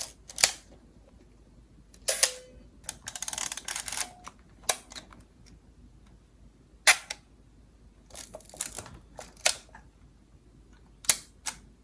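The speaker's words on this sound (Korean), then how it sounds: "이 브랜드마다 그리고 또 기종마다 이 셔터 소리가 다 달라서" Shutters of several film cameras from different brands and models, including SLRs, fire one after another, a series of crisp separate clicks and mechanical snaps with quiet gaps between, close in a silent room.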